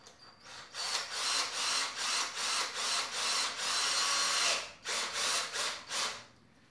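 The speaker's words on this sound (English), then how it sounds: "So I'm going to start drilling now." A power drill bores a hole into a spine, a loud whirring grind pulsing in repeated bursts as pressure is applied, pausing briefly before a few final pulses.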